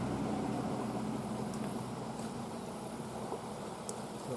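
Car or truck engine idling by the side of a road near a small creek, a steady low rumble with broadband hiss running unbroken and fairly faint throughout, with no talk.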